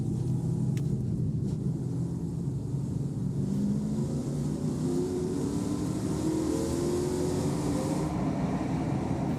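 ARCA stock car engine at DuQuoin State Fairgrounds heard from onboard, a continuous loud droning roar with pitch slowly rising and shifting through the whole stretch, no talking.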